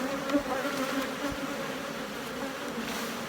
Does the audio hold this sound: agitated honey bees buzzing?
yes